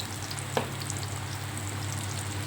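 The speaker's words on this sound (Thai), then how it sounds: "เวลาทอดหมู ใส่เกลือลงไปนิดนึงนะคะ" Pork frying in hot oil with a pinch of salt, a steady close sizzle that continues throughout, with one brief sharp pop near the start.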